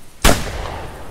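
.223 rifle fires once in the hunting game The Hunter, a single sharp, loud report with a quick fading tail.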